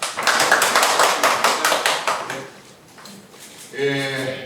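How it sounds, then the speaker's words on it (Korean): Hands clap in welcome at a press conference, a short burst of sharp, rhythmic claps near the start that thins out and fades, followed by a voice speaking. "한참 박수로 맞아주십시오."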